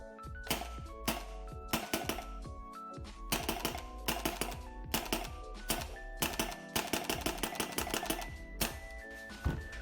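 An HPA Crimson Recon semi-auto airsoft gun, running off a compressor, fires in rapid clusters of sharp mechanical clacks, close and crisp with short pauses between bursts over a low steady hum.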